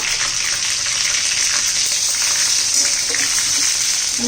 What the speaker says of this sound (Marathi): लसूण चांगला असा तांबूस एकदम परतून घ्यायचा आहे